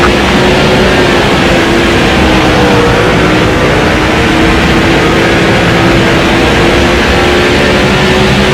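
Race car engines in the NASCAR 07 video game drone steadily and loudly for the whole stretch, a constant high-revving roar with a faint shifting pitch line and no voices.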